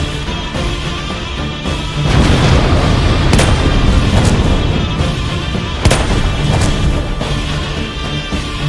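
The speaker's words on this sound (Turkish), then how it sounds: "Bomba, mevzi alın." Bomb blasts and heavy battlefield booms fill a Gallipoli war short film, loud rumbling explosions with sharp cracks of gunfire breaking through a dense, sustained din.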